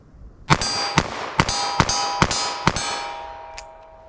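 A .32 H&R Magnum revolver fired quickly at steel targets, about seven sharp shots in fast succession, each followed by a ringing metallic clang, with a fainter ping trailing at the end.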